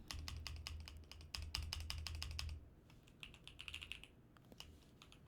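Fast, quiet typing on a computer keyboard, a steady run of crisp key clicks for a couple of seconds followed by a few sparser taps, with no talk over it.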